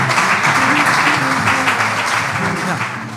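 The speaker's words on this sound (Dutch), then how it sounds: "ook weer een groot applaus voor onze gasten" Audience applause for the guests at a Dutch health café evening in Venray, a sustained broad wash of clapping with voices and talk running through it.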